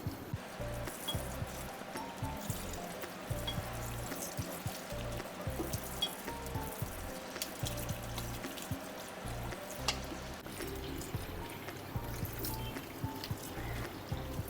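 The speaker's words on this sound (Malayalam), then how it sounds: "നല്ലതുപോലെ റണ്ണിങ് വാട്ടർ കഴുകുക." Farm-fresh spinach washed under running water, a continuous close trickle and splash with small irregular clatters, no talk over it.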